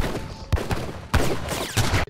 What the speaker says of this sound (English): these normal everyday people were saved from the bullets of these killer cells